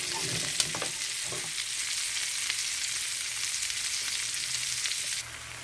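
Tofu, rice and vegetables frying in a pan make a steady, close sizzle with a few light stirring knocks early on.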